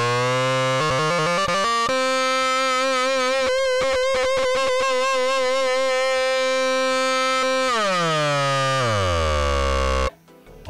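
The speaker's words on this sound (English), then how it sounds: "And here's my guitar lead preset." A synth guitar lead preset built in Ableton Drift plays a sustained, buzzing, distorted melody with sliding and bending notes and a fast trill in the middle, loud and alone, ending in a long downward pitch glide.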